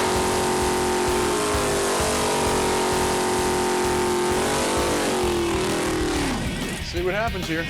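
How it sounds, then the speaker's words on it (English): Two drag cars, a big block 511 cubic inch Mopar against a small block Chevy, roar at full throttle with rising engine pitch and a shift near the end, while a voice talks over the racket. "Let's see what a big block 511 cubic inch Mopar can do against a small block Chevy."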